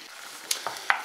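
Onion added to stew meat browning in a pan, a low background sizzle broken by three quick clatters of a spoon against the pan.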